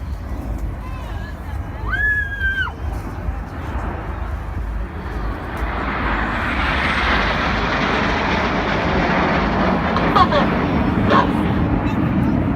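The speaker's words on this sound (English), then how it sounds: "the fabulous multi-role combat aircraft that you saw display earlier, the Eurofighter Typhoon" A Eurofighter Typhoon multi-role combat jet flies past at a beach air display, its broad engine roar swelling and holding steady while spectator chatter carries underneath.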